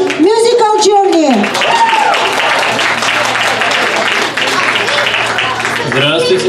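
Audience applause for a trio at a club gathering, a dense sustained wash of clapping filling the whole stretch, with a voice speaking over it at the start and again near the end.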